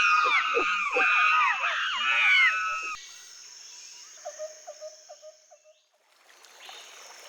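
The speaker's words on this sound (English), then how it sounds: "They're monkeys. Don't be scared, Maria. They're just talking to each other." Monkeys call noisily in a rainforest, a burst of loud, rising and falling screeching whoops for the first few seconds, then quieter repeated hoots and a faint distant ambience.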